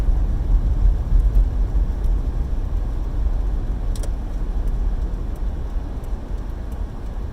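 A car climbs a hill through a blizzard on fairly new tires, its engine a steady low rumble and road roar that runs throughout with no talk.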